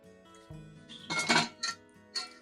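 A heavy cast iron potjie pot clanks and scrapes as it is set over an open wood fire for a beef short rib potjie, giving a burst of loud metallic clatter followed by a few lighter knocks.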